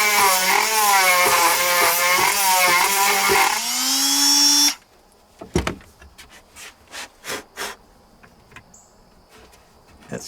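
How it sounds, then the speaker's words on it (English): Wood being sanded by hand for a push button latch inside a van, a loud rubbing rasp for several seconds, then a quieter stretch of scattered light scrapes and knocks. "you're just going to sand a little more."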